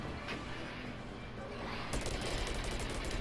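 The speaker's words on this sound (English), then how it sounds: "I'm just shooting in there." Rapid automatic gunfire in the shooter game Plants vs. Zombies Garden Warfare 2 during a Turf Takeover match, a dense burst of repeated shots kicking in partway through over a steady background of game noise.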